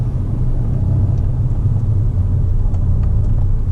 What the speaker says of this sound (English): So I'm in third gear, I put my foot down